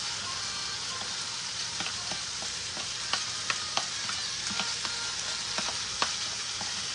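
Ground turkey meat fries in a skillet for fajitas, a steady close sizzle with occasional crackles and spatula scrapes, and nobody talks.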